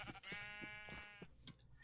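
A sheep in the Minecraft game, Better Than Wolves mod, bleats once, a quiet wavering baa over faint clicking footsteps.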